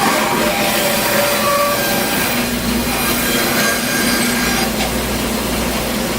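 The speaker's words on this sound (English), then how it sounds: "if I take a piece of wood and do a cut on it" A bandsaw cuts through a piece of wood in a workshop, giving a loud, steady rasping whine that runs without a break from start to end.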